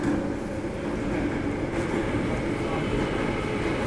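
An MTR train on the Hong Kong metro passes through a station with a steady, loud rumble and rolling hum that fills the whole stretch without pause, heard up close from the platform.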